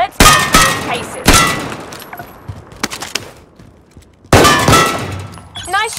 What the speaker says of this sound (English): Notice that a supply box makes a distinctive sound when you get close.